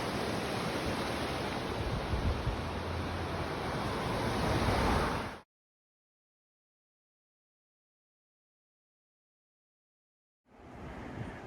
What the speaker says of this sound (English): Crossing over the French Broad River.